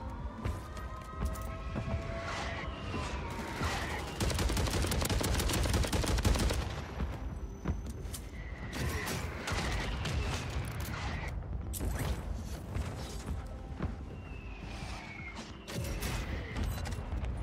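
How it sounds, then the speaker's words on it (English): Rapid gunfire bursts and booming explosions from a mortar strike in Call of Duty Warzone on Rebirth Island, dense and continuous, with a louder cluster of blasts in the middle and sharp shots scattered throughout. "Mortar strike on the way."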